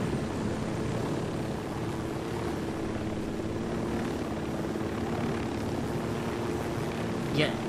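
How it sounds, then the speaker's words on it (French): Aircraft engine droning steadily as a plane takes off in the Ghost Recon Wildlands video game, a continuous loud hum with tonal bands holding throughout. "Écoutez, je vais décoller."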